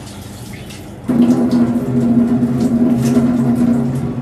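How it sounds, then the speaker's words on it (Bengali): Water running steadily into a bowl of khesari (grass pea) lentils to soak them, starting abruptly after a second of quiet room tone and continuing as a close, even pouring rush. "খেসারির ডাল ভিজিয়ে রাখলাম"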